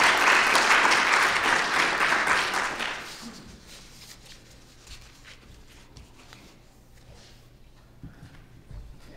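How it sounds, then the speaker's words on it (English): A conference audience applauds after a talk, a broad wash of clapping from many people that tapers off over a few seconds, leaving quiet room tone with faint shuffling. "Let's give them a round of applause"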